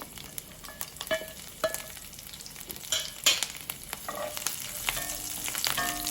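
Cumin seeds and garlic cloves fry in peanut oil with a gentle continuous sizzle, broken by sharp clinks and scrapes as a spoon stirs the pan at irregular intervals.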